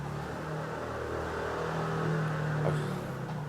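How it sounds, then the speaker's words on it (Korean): A steady motorcycle engine drones throughout, rising slightly in pitch midway as it revs, with a constant low rumble and no talking. "아, 오토바이 소리가 크겠네요."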